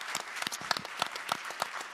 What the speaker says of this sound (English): Let's give them a round of applause for sharing their thoughts with us today.